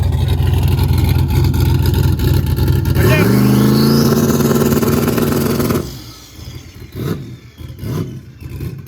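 A turbocharged Mustang engine roars loud and close, then revs sharply upward as it accelerates hard with a rising whine. It cuts off abruptly, leaving quieter rumbles and voices in the background.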